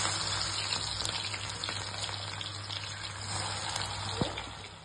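Onions fry steadily in hot oil for chicken biryani, a continuous close, bright sizzle with small crackling pops and no talk over it.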